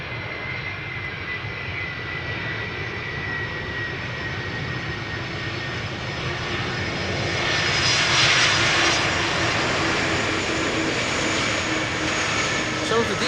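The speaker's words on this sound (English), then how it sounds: "This airplane is 30 years old, had its first flight in February 1994." A 30-year-old airliner, first flown in February 1994, arrives on the Polderbaan runway at Schiphol, its engine roar broad and steady, then swelling louder as it passes close, with a person talking over it.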